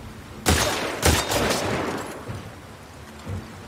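Gunfire in The Last of Us Part 2: a few loud, close gunshot bursts ringing out, the strongest early, then a fainter shot near the end, with no talk over them.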